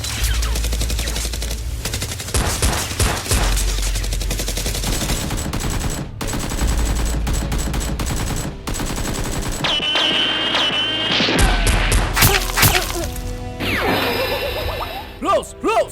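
Nerf toy guns fire during a mock battle, with rapid bursts of shots and clattering impacts layered over dense loud sound effects and music, while people shout now and then.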